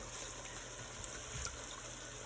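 Cornstarch slurry trickles and pours steadily into a pan, a soft continuous splashing close by with faint background hum.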